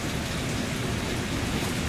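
Heavy rain pours steadily during Typhoon Faxai in Japan, a dense, even hiss of falling water that fills the whole moment without break, moderately loud and close, with no voices.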